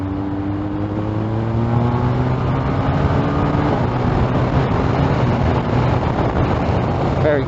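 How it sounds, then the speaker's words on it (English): A BMW R1250R motorcycle engine climbs steeply through the gears toward top revs, its rising whine giving way to heavy wind roar at speed on a sport test ride. "Want to see what it's like at the top revs."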